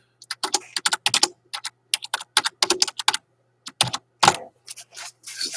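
Fast, loud typing on a computer keyboard, close up, in irregular bursts of crisp clicks with short pauses between words and a heavier thump near the end, with no voices.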